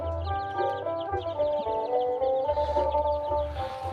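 Chickens cluck steadily during a morning feeding on a farm, several birds close by in overlapping, uneven bursts with no talking.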